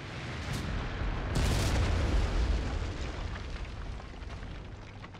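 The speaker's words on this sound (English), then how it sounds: "Ground and the air shakes around us as our bombs hit home." Bombs detonating on the ground in the IL-2 Sturmovik combat flight game: a heavy, booming blast erupts early and rolls into a deep, sustained rumble, all layered over a steady aircraft engine drone, with no voices.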